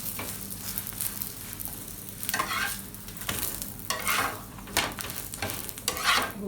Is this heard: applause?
no